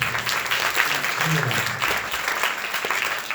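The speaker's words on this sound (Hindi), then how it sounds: "जोरदार ताली बजा दो।" Loud, steady audience applause fills the room at an Arya Samaj anniversary gathering in Noida, a dense continuous clapping wash with no pauses.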